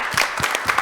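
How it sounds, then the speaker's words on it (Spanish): A studio audience applauds a guest priest on a show: a brief, dense burst of steady clapping at close range. "Le damos un muy fuerte aplauso al padre Paco"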